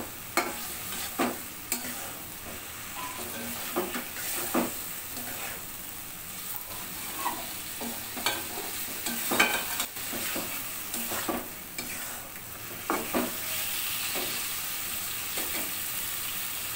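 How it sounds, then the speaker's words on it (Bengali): Fish pieces being stirred and fried with spices, a low steady sizzle punctuated by regular spatula knocks and scrapes against the pan, close and fairly quiet. "সমস্ত মশলা দিয়ে এখন আমি নেড়ে চেড়ে মাছটাকে ভালো করে মশলার সঙ্গে কষিয়ে নিব"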